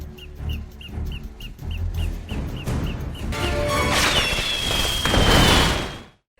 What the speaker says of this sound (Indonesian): Setelah kembang apinya meledak